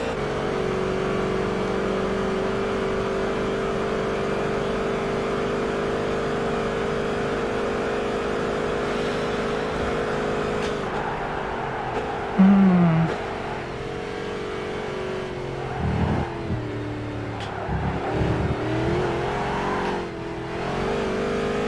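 Race car engine in Gran Turismo 5, a steady high whine for about ten seconds, then uneven revs and throttle blips as the car loses traction and spins, with faint game noises and no talk.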